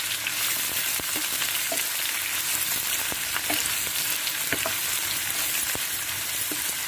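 Garlic, green chili and onion fry in a hot pan for a brinjal palya, a steady dense sizzle with scattered crackles and occasional stirring clicks, close and continuous with no talking.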